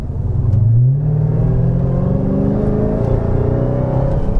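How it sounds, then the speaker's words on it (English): A 2020 Dodge Charger Hellcat Widebody at full throttle, its supercharged engine rising in a steady, loud drone with a whine layered over the roar, continuous and close throughout. "there's that supercharger whine"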